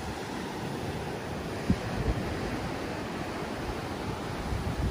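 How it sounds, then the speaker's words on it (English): Ocean waves at Treasure Beach, Jamaica, heard from a villa pool terrace: a steady, soft wash of surf with wind across the microphone, distant and even, with a couple of faint knocks and no voices. "listen to some nice sultry music as you listen to the waves."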